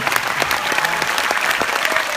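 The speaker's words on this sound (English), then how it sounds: "Great, big applause." Audience applause fills a university lecture hall after an entrepreneurship talk, a dense, steady wash of many hands clapping at close range for about two seconds.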